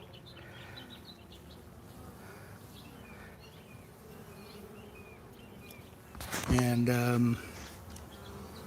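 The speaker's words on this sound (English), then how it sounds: "I just had a bee land in my hair" Honeybees buzzing around a beehive, a soft continuous hum under quiet talk, with a louder close buzz and rustle flaring briefly near the end.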